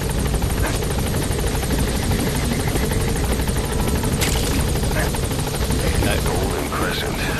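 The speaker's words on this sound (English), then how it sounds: "Support helicopter has arrived." A support helicopter in Metal Gear Solid V hovers close by, its loud rotor thrum steady and unbroken throughout.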